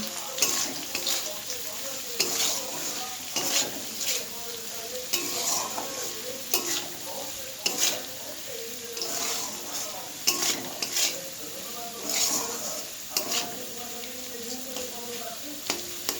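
Spices with turmeric powder being stir-fried in a pan for spicy taro leaf (kochu shak) with shrimp, heard as repeated scraping stirs with a steady sizzle and clinks of utensil on pan, close by and without speech.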